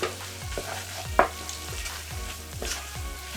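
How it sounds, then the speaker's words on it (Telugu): Mutton keema being stirred with chili powder and coriander powder in a pan, a spoon scraping in a steady rhythm of about six strokes over a continuous low sizzle, close and clear, with no voices. "ఈ కారము ధనియాల పొడి దీనికి బాగా మటన్కి బాగా పట్టే వరకు తిప్పుతూనే ఉండాలండి. బాగా తిప్పుదాం."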